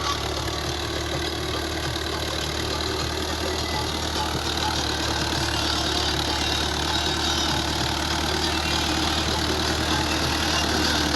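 A steady, droning tractor engine, a model 640 fitted with a front blade, idles continuously at close range, with a constant low rumble and no breaks throughout.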